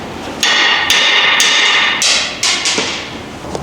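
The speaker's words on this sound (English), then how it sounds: "If you strike this guy right here with a hammer, it's going to fall out." Several sharp, ringing metallic strikes from a hammer hitting a metal part on a Toyota Tundra during an oil change, at an uneven pace, close and loud, each with a bright decaying tail.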